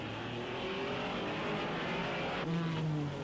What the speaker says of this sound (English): This is Joe Bonnier's Porsche